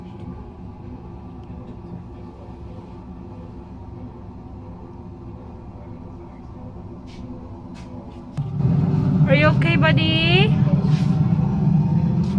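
Inside a U-boat museum submarine on Rügen, an underwater sound effect plays as a low, steady droning rumble that swells noticeably louder partway through, while a voice briefly speaks over it.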